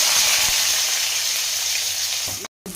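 Onions and curry leaves sizzle loudly in hot oil for a pumpkin palya, a steady broadband frying hiss, close and continuous, that cuts out briefly near the end.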